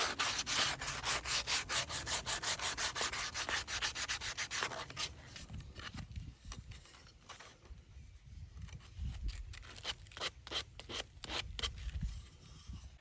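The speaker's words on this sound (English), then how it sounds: "Then hand sand the edges to smooth them up." Steady back-and-forth rasping of sandpaper rubbed along a bird's eye maple cutting board edge, brisk rhythmic strokes up close, pausing briefly midway before resuming with lighter passes.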